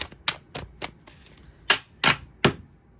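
A short run of crisp, irregular slaps and riffles of tarot cards being shuffled and tapped close by.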